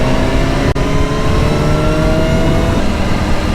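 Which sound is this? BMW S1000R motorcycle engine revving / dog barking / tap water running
BMW S1000R motorcycle engine revving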